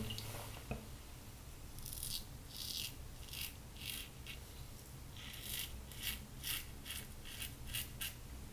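A mild razor makes a final pass against the grain over Wars Classic shaving cream, a close, faint rasping scrape repeated in short strokes of about half a second, with no talk.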